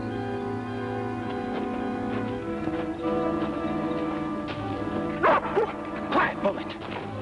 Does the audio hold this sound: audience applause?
no